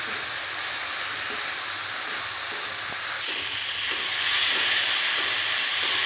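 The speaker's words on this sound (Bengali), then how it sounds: "এইবার এটাকে ভালো করে কষিয়ে নেব।" Turmeric and chili powder masala being stir-fried in a pan for a rui fish curry, giving a steady close sizzle and hiss that grows slightly louder toward the end.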